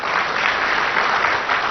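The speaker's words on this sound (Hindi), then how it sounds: "ताली बजाओ ना।" An audience claps at a Brahma Kumaris spiritual discourse, a dense and loud burst of steady applause filling the short moment without any talk.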